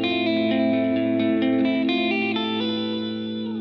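A clean electric guitar plays a melodic arpeggiated line, notes ringing out with delay repeats and a reverb wash trailing behind, no voices.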